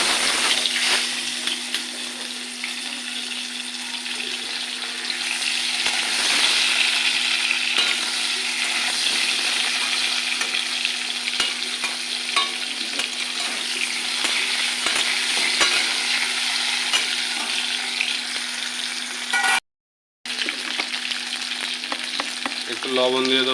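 Pieces of elephant foot yam fry in hot oil in a pan for a hilsa curry, a loud, dense sizzle crackling steadily throughout with occasional stirring scrapes and a brief dropout near the end.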